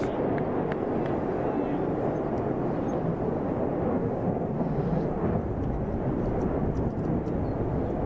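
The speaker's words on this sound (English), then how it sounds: "Another jet plane takes off." A jet plane takes off somewhere off in the distance from an outdoor cricket ground, a broad, steady rumbling roar that carries on without a break beneath faint crowd ambience.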